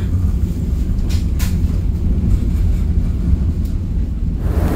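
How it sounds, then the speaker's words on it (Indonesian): The Argo Semeru train departs Surabaya Gubeng station with a loud, continuous low rumble and drone that holds steady and close, with a few brief hissing bursts on top. "Kalau nggak salah ini datang lalu kereta Argo Semerunya langsung berangkat teman-teman"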